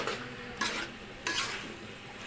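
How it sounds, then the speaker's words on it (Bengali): Potatoes, tomatoes and dried fish being stirred in a pan, a continuous bright sizzle with two louder bursts of scraping as the spoon turns them, close up with no talk. "আলু, টমেটো আর শুটকি এই তিনটাকে আমরা ভালোভাবে মিক্স করে নেব।"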